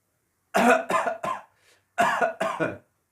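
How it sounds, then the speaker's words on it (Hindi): A series of deliberate, throaty coughs from one person: three quick coughs, a brief pause, then two more, close and clear. "मैं आपको खांस कर दिखाता हूं, देखो।"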